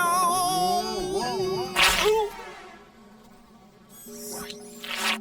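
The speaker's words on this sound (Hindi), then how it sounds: "मक्खियों को कचरा क्यों पसंद है?" Flies buzz around garbage, their wavering drone weaving up and down in pitch in a cartoonish way, with brief noisy bursts between them.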